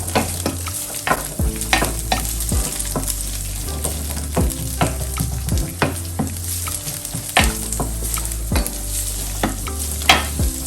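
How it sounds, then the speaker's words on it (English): Green beans and other food stir-fried in an electric skillet for a Thai-style rice bowl, a steady close sizzle broken by regular scraping and clacking stirs every second or so. "have to stir fry this for about 5 to 6 minutes until it's tender"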